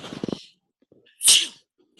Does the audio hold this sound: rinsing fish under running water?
no